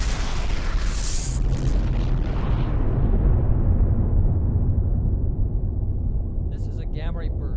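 A deep, rumbling explosion sound effect for a supernova gamma ray burst: a loud, sustained low roar that starts with a bright blast, then loses its upper edge as it drags on, with a faint tonal flutter near the end.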